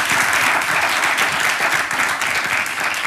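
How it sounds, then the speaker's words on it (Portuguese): Studio audience applause on a Portuguese late-night television show, dense and steady clapping from a full crowd that holds at an even level throughout. "Uma salva de palmas para ela"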